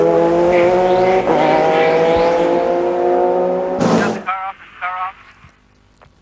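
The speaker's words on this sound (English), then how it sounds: "that's the Lister car that goes by" A Lister race car at an American Le Mans Series race howls past close by with a loud, high-pitched engine note that swells, then cuts off abruptly and fades, while a commentator talks over it.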